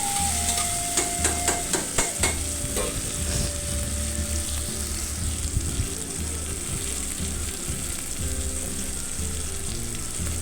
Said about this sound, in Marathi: त्याला थोडंसं फ्राय होऊन द्यायचं